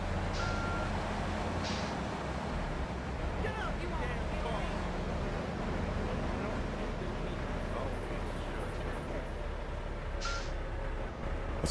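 Truck reversing beeps in the video game GTA 3, repeating over a dense, constant wash of game traffic and engine noise, with someone talking over it.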